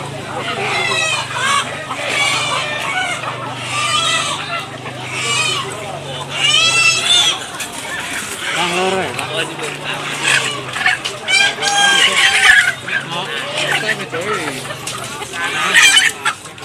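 Red chickens at a chicken market in Magelang, Indonesia cluck busily and crow repeatedly in a dense, noisy chorus, with voices of people talking nearby throughout.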